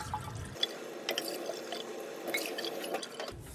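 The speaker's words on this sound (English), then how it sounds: "I'm going to start by putting 2 cups of water into my pot" Water is poured into a cooking pot in a kitchen, a soft trickling and dripping with light splashes that runs for a few seconds, fairly quiet and without talk.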